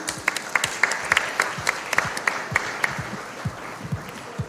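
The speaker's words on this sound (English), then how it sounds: "Can we have a round of applause," Audience applause at a report launch during a FICCI FRAMES 2024 inaugural session, with sparse, distinct claps from a modest crowd building into a steady patter before thinning out.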